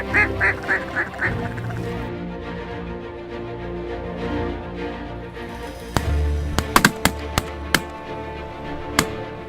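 Ducks calling over a field where they are feeding, with a rapid run of loud quacks at the start, steady background chatter from the flock, then sharper scattered calls near the end.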